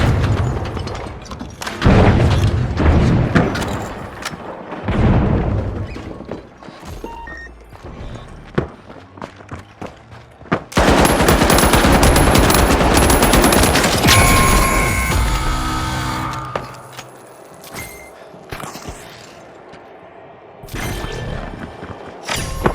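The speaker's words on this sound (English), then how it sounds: "Throwing the frag!" Frag grenades and gunfire in the destructible-arena shooter The Finals: a dense run of booms, crashes and rapid shots, then a loud sustained blast near the midpoint that slowly fades into scattered smaller hits.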